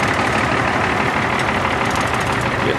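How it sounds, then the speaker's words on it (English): A 560 tractor engine idles steadily and loudly up close, a constant rumbling drone with no change in pace. "Beautiful 560 set here idling away"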